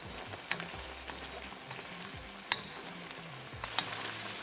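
Jumbo black tiger shrimp in a creamy sauce are stirred with parsley flakes in a pan, giving a faint, steady sizzle broken by a few soft spoon scrapes and taps.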